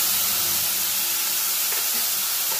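Ginger, garlic and onion paste sizzles in a pan of hot oil for a Bengali capsicum katla fish dish, a steady, close, broadband hiss running unbroken throughout with no voices.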